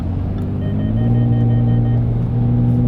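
A Jaguar F-PACE S V6 engine drones at low RPM, a loud, steady, deep rumble heard from inside the car with no talk.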